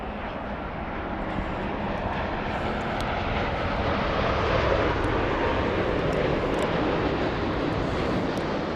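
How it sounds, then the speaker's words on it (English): A Japan Airlines jet arriving from Osaka passes at LAX, a steady broadband engine roar that swells slightly midway, with no talk over it. "We have Japan Airlines flying in from Osaka"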